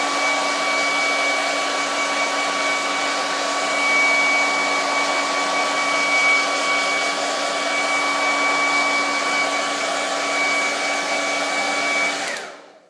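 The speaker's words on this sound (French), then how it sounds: "il vous faudra un sèche-cheveux" A hair dryer runs steadily at close range, heating a Samsung Galaxy Grand 2 phone screen, with a constant whirring hum, then cuts off abruptly at the end.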